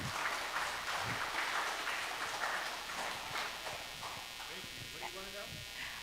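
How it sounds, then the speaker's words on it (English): Scattered applause from a congregation at a young adult camp meeting, a steady wash of clapping under voices talking nearby. "Let's give him a round of applause."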